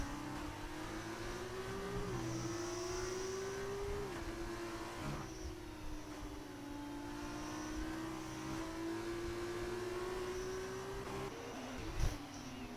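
A Formula 2 race car engine in a Bahrain racing game, a steady high whine climbing through gears with brief shift dips, continuous and moderately close, with a faint thump near the end.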